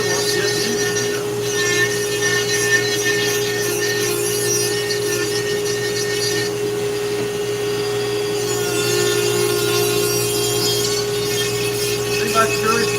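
A Dremel rotary tool fitted with a Kutzall flamer burr carving wood, a steady high motor whine with gritty rasping as the burr bites, running continuously; someone talks over it.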